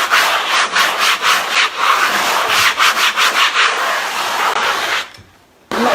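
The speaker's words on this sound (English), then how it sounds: "I'm just sanding it to work it in." Sandpaper scrubs over chalk-painted upholstery fabric on a vintage chair in quick, steady back-and-forth strokes, close and continuous, then stops abruptly near the end.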